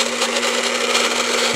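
A small 4-volt battery motor spins plastic toy-car gears, a steady whirring buzz with a constant hum that holds unchanged throughout, close and fairly loud.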